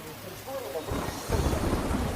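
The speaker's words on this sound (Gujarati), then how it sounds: "ધોધમાર વરસાદના કારણે રસ્તા પાણી થઈ ગયા હતા" Heavy monsoon downpour in Navsari, a dense, steady roar of rain that swells louder partway through, with a low rumble underneath.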